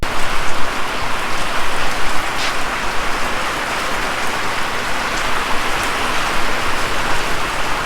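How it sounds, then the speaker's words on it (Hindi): Heavy rain pours down steadily, a dense, loud and even hiss of drops striking surfaces without letup and with no voices. "तो बारिश की शिद्दत में आहिस्ता इजाफा हो रहा है"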